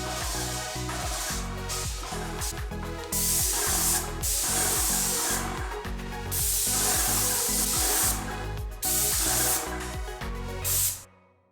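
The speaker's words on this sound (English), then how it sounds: "and now it's time to start spraying." A spray gun lays down paint in a makeshift paint booth, loud hissing bursts that start and stop in repeated passes, with short pauses between sprays.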